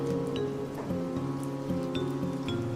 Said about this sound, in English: it's acid rain. It's acid rain up here?